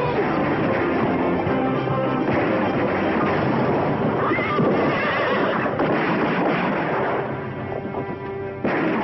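A horse whinnies after being shot, amid a loud, dense din of gunfire and commotion that continues throughout.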